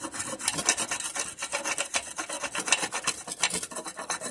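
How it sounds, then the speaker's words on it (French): A hammer scrapes across metal in a rapid, rough rasping rhythm of repeated strokes, close and steady for several seconds, with no voices. "avec le marteau, on gratte"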